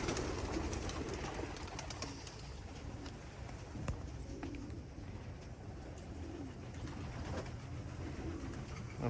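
Soft, low pigeon cooing repeats against a constant rumbling background, with some faint rustles and flutters, fairly close but not loud.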